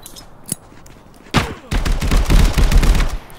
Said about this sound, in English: I hit him twice with the shotgun